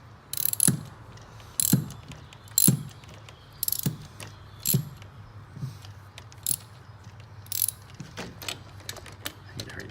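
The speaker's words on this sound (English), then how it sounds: "Now when you're torquing these down, you're gonna make sure that you don't over torque them" A ratchet torquing down the ignition coil bolts on a 2009 Grand Cherokee 3.7, clicking in short bursts roughly once a second, close up with a faint mechanical hum underneath.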